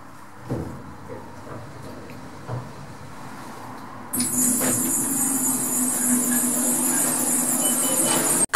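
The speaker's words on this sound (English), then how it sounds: "And now we go along to the transit train." A transit train at Gatwick Airport hums and rumbles in an enclosed space, then a loud high-pitched whine rises as it gets under way.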